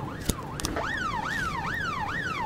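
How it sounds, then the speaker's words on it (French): A police siren in the video game This Is the Police wails in repeated rising and falling sweeps, loud and steady, with a few short clicks near the start. "Cette sirène, quoi."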